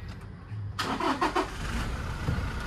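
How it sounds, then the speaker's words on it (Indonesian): A 2017 Toyota Fortuner TRD cranks and starts up after a quiet pause, then the engine settles into a close, steady idle. "kita hidupin mesinnya ya"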